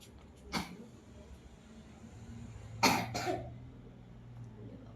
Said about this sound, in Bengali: মেয়েটার খালি কাশি হচ্ছে গো।